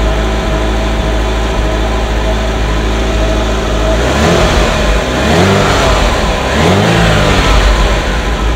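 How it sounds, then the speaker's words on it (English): A Ferrari engine in a workshop, revved loudly up close over a steady idle, with two rising and falling revs partway through. "Lovely sound of a Ferrari singing."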